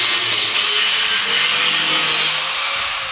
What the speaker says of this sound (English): the angle grinder's on